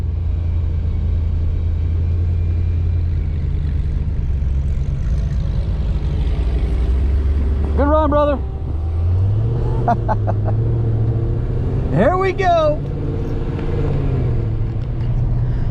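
A supercharged 5.7 Hemi drag car rumbles at a drag strip, a low steady drone with louder engine surges midway, while someone speaks briefly over the noise.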